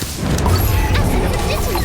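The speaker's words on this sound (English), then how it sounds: "Fantastic Bomb!" The Fantastic Bomb spell going off in the Harry Potter Magic Awakened game, a loud, dense crashing blast that fills the whole moment and holds steady without any gap.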